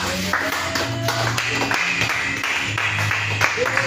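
A church congregation claps in praise of the Lord Jesus Christ, with quick, uneven clapping spread through the room and voices and ringing tones mixed in.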